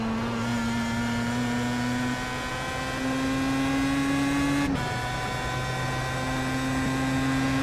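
A Pro Mazda race car engine in iRacing on the Nürburgring holds a steady, even drone under throttle, with a brief shift in pitch partway through, then settles back to a constant tone; no one speaks.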